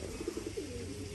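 Racing pigeons at a club loft coo softly in a short series of low, rounded notes, faint and somewhat distant beneath a steady hiss of background noise.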